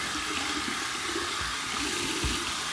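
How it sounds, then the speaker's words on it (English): Warm water runs from a bathroom tap for a rinse after shaving, a steady, close hissing stream with occasional splashes and no voices. "Here's my warm water rinse."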